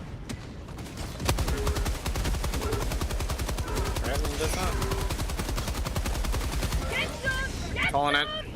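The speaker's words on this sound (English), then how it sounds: "Last reload in the machine gun." In a defense mission in the video game Overwatch, a machine gun fires in loud, sustained rapid bursts that run almost without a break. Voices talk over the gunfire and game effects chirp near the end.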